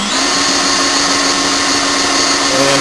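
Power drill on its low setting, about 450 RPM, spinning an alternator rotor in a permanent magnet alternator test; a steady, loud whirring motor whine with a constant tone, running without talk.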